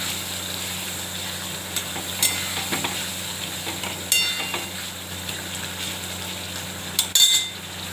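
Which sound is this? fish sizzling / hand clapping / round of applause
fish sizzling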